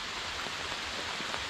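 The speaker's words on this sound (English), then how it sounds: "Okay, so it's raining pretty good," Steady rain falls hard on a truck tent, a dense, even hiss of drops drumming on fabric with no other sounds.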